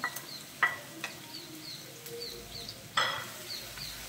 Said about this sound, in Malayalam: ഇനി ഇത് കരിഞ്ഞു പോകാതെ നന്നായിട്ടൊന്ന് വറുത്തെടുക്കാം.